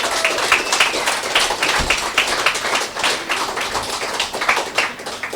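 A poetry club audience in Perth claps steadily, dense overlapping hand claps filling the room for several seconds at moderate loudness, with no talk over them.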